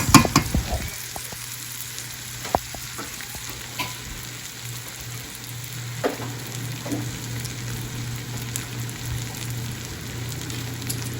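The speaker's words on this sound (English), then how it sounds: "I'm gonna add the peppers in here, and then I'm gonna put the seasonings in there also" Colourful bell peppers frying in a pan for southern fried cabbage, a steady crackling sizzle throughout after a few louder clatters at the start, a low hum beneath, no speech.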